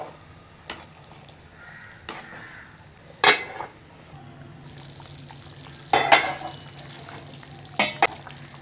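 Intermittent clinks of a utensil against a pot as okra is stirred into a simmering kaara kuzhambu curry, with a soft simmering hiss underneath.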